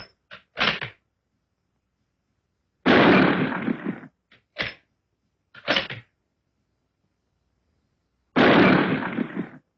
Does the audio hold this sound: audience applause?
no